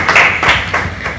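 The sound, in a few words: clapping hands, applause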